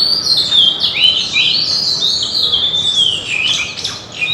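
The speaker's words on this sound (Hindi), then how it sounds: "बाकी बड़े ध्यान से सुनिए, घर के आसपास पक्षियों की चहचहाट।" Several birds chirp and tweet around a house in the Pahadi hills, a busy, continuous overlapping chatter of high calls, fairly loud and near, over a soft outdoor background.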